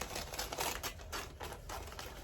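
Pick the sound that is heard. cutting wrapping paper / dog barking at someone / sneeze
cutting wrapping paper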